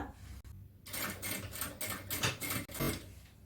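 A sewing machine stitching a seam on a nighty garment, running in a short burst of rapid, rhythmic needle clatter that stops briefly and starts again, fairly quiet.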